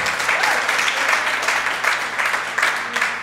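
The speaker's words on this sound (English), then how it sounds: "Give yourselves a round of applause." Enthusiastic applause from a stand-up comedy club audience in Toronto, loud and continuous with a dense texture of many hands clapping.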